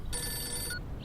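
A telephone rings during a phone call in a Hindi-dubbed film scene, a steady electronic ringing tone lasting just over half a second over background hum, then a faint short tone.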